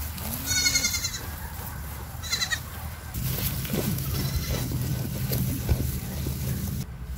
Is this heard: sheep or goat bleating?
yes